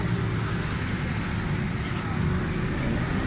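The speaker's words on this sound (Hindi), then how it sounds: "माशाल्लाह गाड़ी का साउंड बेहतरीन सेट है, किसी किस्म की मिसिंग प्रॉब्लम नहीं है।" A Daihatsu Cuore car engine idles steadily after jet and tappet repair, a continuous low, even hum with no misfire, heard close and alone for the whole stretch.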